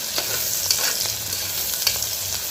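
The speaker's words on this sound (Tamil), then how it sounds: "இப்போ இந்த வெங்காயத்தை நல்லா வதக்கிக்கணும்." Onions for mutton fry sauté in a hot pan, giving a loud, continuous sizzle broken by close, repeated scrapes of stirring, with no talk.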